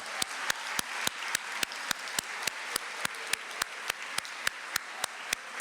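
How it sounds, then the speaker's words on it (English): Steady, evenly spaced hand claps repeat in a brisk rhythm for several seconds, fairly close and without any voices. "Give them a big round of applause"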